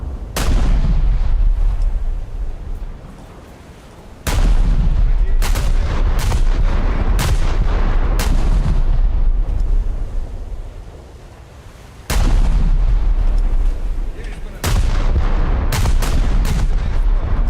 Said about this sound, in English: Let's take a few shots at it.